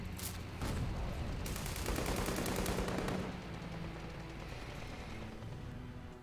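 Sustained automatic gunfire in the World War II strategy game Call to Arms during a Russian campaign airfield attack, with dense rapid bursts that swell loudly in the middle and then thin out, no voices present.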